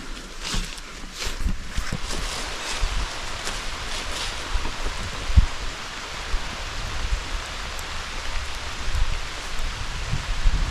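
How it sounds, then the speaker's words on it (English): Steady rain patters and hisses throughout, with a few louder drops and knocks close by; no one speaks. "it's raining and thundering again"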